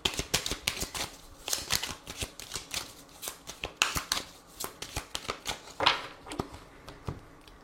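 Tarot cards being shuffled for a reading, a steady run of crisp papery riffles and slaps repeating through the whole stretch, close and fairly soft, with no talking.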